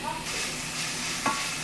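Chopped onions sizzle in a hot pan for a short stretch, with a spoon or spatula scraping and stirring through them near the microphone.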